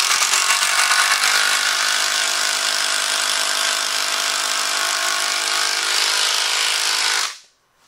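A power tool drives screws below the surface of a wooden workbench top in one loud, continuous whirring run lasting about seven seconds, then stops abruptly.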